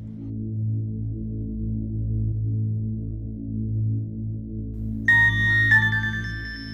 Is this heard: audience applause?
no